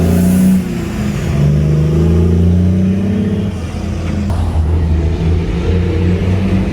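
A failing Lexus ES300 engine labours on the highway with a loud, steady low drone that wavers in pitch as the car struggles to gain speed.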